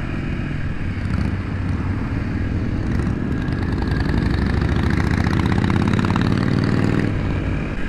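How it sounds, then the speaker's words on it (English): Small Japanese motorcycle engines idling together on a street in Austin, a steady low burbling drone with slight surges, close and continuous with no talk. "these little goofy Japanese bikes"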